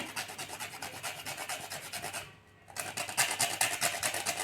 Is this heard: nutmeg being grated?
yes